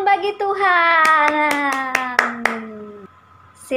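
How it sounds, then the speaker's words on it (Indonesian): A congregation at a children's worship service claps hands in a steady run of about seven sharp, evenly spaced claps, ringing out beneath a long, sustained voiced tone that slowly glides downward. "Tepuk tangan bagi Tuhan."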